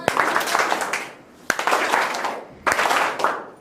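A group at a public speaking and confidence-building session claps together on cue in three separate bursts of dense, roomy hand clapping, with short pauses between them.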